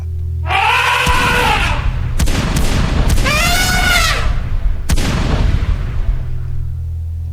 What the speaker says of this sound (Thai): เมื่อนั้นเสียงปืนและเสียงช้าง ก็ดังสถานกึกก้องไปทั่ว